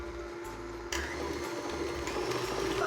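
An electric mixer churns shortbread cookie dough, switching on partway through and then running with a steady mechanical whir and grinding rattle close by.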